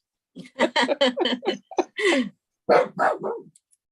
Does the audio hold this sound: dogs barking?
yes